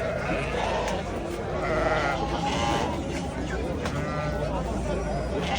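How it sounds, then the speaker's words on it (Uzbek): Sheep and small lambs bleat repeatedly at a busy livestock market in Angren, mixed with close chatter and crowd noise throughout. "Endi mayda qo'ylar, mayda qo'zilar."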